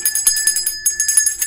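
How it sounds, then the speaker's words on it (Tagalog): A small hand bell is rung in quick repeated shakes, bright metallic rings coming in bursts with a brief pause midway, close and clear with no talk over it. "Kining bell, ako nang gipalit para nimo."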